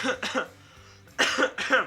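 Two short bursts of coughing, each a pair of quick harsh coughs, close and fairly loud, separated by a brief quiet gap.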